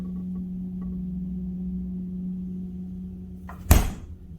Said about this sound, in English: The refrigerator is now running.